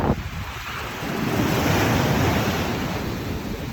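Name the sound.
big waves crashing on Jomtien Beach, Pattaya, during storm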